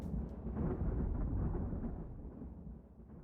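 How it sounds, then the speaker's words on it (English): A deep, rolling rumble of thunder in the Fate/Grand Order game, swelling quickly and then fading slowly over a few seconds, heard alone without voices. "Was that thunder?"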